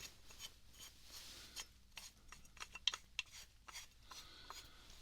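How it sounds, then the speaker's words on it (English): A metal adjustable wrench is worked by hand, giving quiet close scraping and rasping with small metallic ticks, soft and intimate with no voice. "We could check this wrench. I'm just adjusting it. So you adjust it right here."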